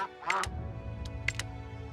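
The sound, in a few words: duck quacking in a video game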